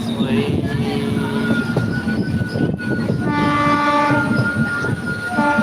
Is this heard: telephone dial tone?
no